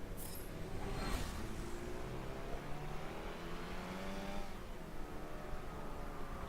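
A Ferrari Testarossa engine in the Forza Motorsport 7 racing game revs up and down in smooth rising and falling sweeps, a sustained mid-pitched roar heard alone without talk.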